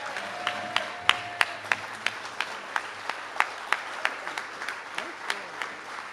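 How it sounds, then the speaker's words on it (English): Applause at the 2012 Barbados Labour Party annual conference after Rt. Hon. Owen Arthur's address: a steady bed of clapping with sharp individual claps standing out at a fairly even beat, moderately loud and without speech. "a round of applause, sir, please"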